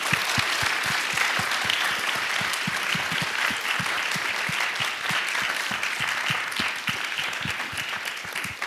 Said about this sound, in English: So if we can give our alumni a big round of applause.